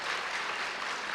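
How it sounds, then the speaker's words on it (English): A dense, steady wash of applause from an audience at a district chorus concert, sustained and moderately loud for just over a second, with no speech on top. "you can clap for that"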